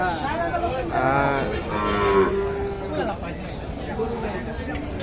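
Sahiwal bull calves low with long, drawn-out moos amid a busy livestock market in Kaharole, Dinajpur, while people talk nearby in the background.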